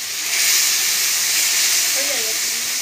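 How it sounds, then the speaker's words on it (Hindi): Spices with Kashmiri chili frying in hot oil for a banana curry, giving a steady bright sizzling hiss that holds at an even level throughout, with a faint tonal sound appearing briefly near the end. "ये देखिए फ्रेंड्स मसाले जो है चिरकने लगे हैं।"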